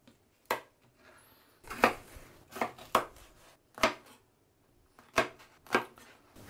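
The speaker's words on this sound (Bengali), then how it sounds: "ঝিঙাটাকেও কেটে নিলাম" Ridge gourd being cut on a board with a knife, a series of sharp, close chops in an uneven rhythm with short quiet gaps, no talking.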